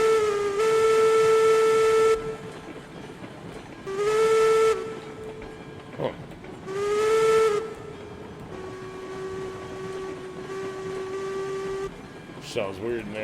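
A steam locomotive in the game RailRoads Online gives three long, loud whistle blasts and then a softer sustained tone, over the rumble and hiss of the engine starting off, with low background chatter mixed in.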